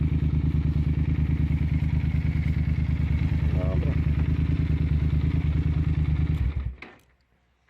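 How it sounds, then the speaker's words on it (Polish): A Yamaha TDM 900 motorcycle with an Akrapovic exhaust idles steadily and loudly at close range with a deep, even throb, a brief voice cutting in before the engine shuts off near the end. "Nie wiem czy mnie w ogóle było słychać podczas pracy tego silnika, ale chodzi mega."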